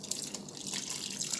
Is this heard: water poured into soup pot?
yes